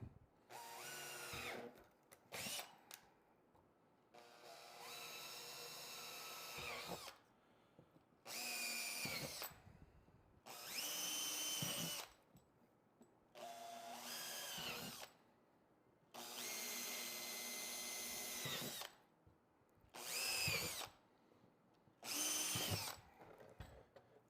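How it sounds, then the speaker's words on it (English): A power drill whirs in a series of bursts of several seconds each, separated by short pauses, close by and fairly loud, drilling holes while installing a rear audio kit in motorcycle hardbags. "I'm going to make sure the drill is not like this,"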